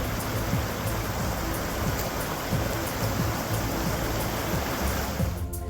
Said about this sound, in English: enjoy the sounds of rushing water